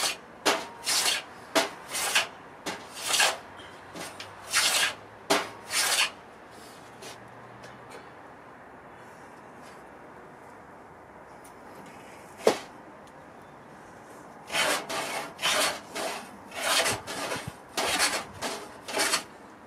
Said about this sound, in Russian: Это рубанок